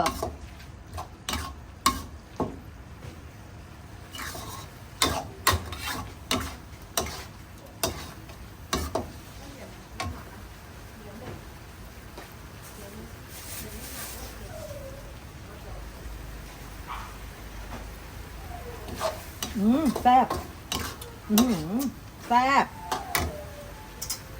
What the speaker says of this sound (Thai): ผัดให้หมูสุกเด้อ